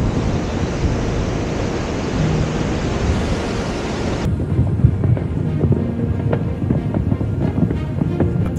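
Ocean surf rolls onto the sand at Manhattan Beach on the Fourth of July evening, a loud, steady roar of breaking waves mixed with gusty wind rumble on the microphone, with no voices.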